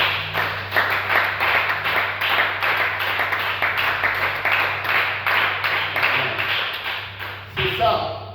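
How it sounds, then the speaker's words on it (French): A church congregation claps and cheers during an ordinary worship service, steady dense applause running throughout with a low hum beneath and a few louder bursts near the end. "On acclame pour la gloire de Dieu."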